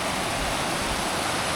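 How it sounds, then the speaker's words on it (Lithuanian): A small waterfall over rocks on a road trip through Croatia produces a dense, continuous rushing roar of falling water, close and steady. "Čia toksai mažylis krioklys."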